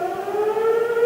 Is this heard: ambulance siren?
yes